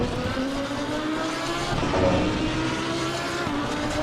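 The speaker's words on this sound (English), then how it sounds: "Oh, I'm sliding all over the place." A Lamborghini Super Trofeo race car in Assetto Corsa Competizione slides on overheated, overpressured tires, its engine droning loudly and steadily with a faint tire scrub that swells briefly in the middle.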